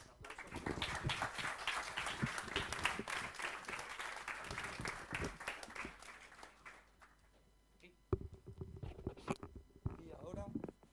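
Audience applause after a talk, fairly quiet and dense clapping that thins out, followed by a few scattered sounds and brief voices.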